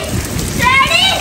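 Heavy rain pouring down in a downpour, a loud continuous hiss of falling water heard close by, with a brief tonal sound rising partway through.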